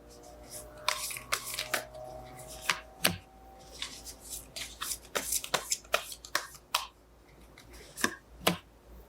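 Tarot cards are shuffled close up in a series of crisp riffling and flicking bursts with soft taps between them, and no talk over them.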